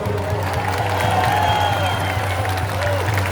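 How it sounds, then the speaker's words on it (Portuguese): Crowd at an outdoor political rally in Belo Horizonte applauds and cheers for Bruno Engler, a sustained mass of clapping over a steady low hum from the sound system, with scattered voices mixed in. "Salva de palmas pro Brunão"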